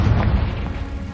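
A Confringo spell in Hogwarts Legacy lands as a short, deep booming blast with rumbling low-end weight that fades quickly.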